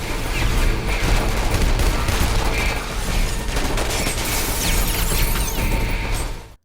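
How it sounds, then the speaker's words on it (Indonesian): Heavy gunfire in a heist film shootout over a government shipment of counterfeit money: dense, continuous bursts of shots and loud impacts filling the whole stretch, with no voices. "akhirnya aksi baku tembak pun terjadi"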